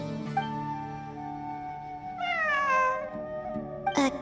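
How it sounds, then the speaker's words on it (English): Cat meowing in the video game Genshin Impact, two drawn-out meows a few seconds apart over a steady soft musical drone, the second rising then falling, ending with a short sharp chirp. "It really is a cat."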